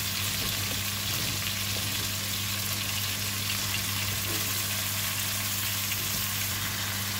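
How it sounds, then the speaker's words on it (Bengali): Eggplant and potato fry in a pan, giving a steady, dense sizzle that runs continuously at moderate loudness with no talking. "এখন বেগুন আর আলুটাকে একটু কষায় নিব।"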